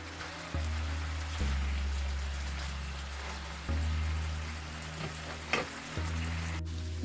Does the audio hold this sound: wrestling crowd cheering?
no